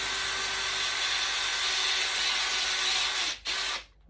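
Power drill grinding a hole through aquarium tank glass, a steady high whine running continuously and close, then cutting out abruptly near the end.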